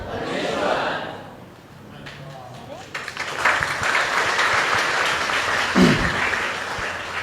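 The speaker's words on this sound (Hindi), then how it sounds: "अब आपने ताली क्यों बजाई मुझे नहीं पता" An audience at a spoken gathering bursts into applause that swells and settles, loud and close, with scattered voices and chatter mixed in.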